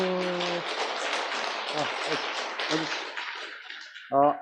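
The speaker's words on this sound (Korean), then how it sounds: "우와, 박수." Applause from a gathering at a senior academy community special Mass: dense, steady clapping for about four seconds, with voices heard before and after.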